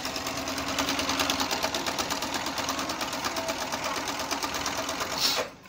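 An Electrolux 990S electronic sewing machine runs a straight stitch at a 2.5 stitch length, giving a steady, close, rapid mechanical whirring and needle chatter for several seconds before stopping abruptly.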